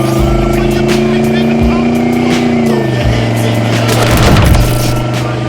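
A 1984 Chevrolet Monte Carlo SS with a 305 V8 and automatic transmission on a test drive, its engine droning steadily up close, with pitch shifting as it shifts gears and rising revs near the end, under a voice.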